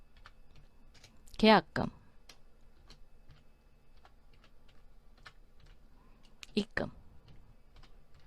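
Short bursts of light clicking keystrokes on a computer keyboard while entering bookkeeping data, heard beneath a person speaking softly nearby.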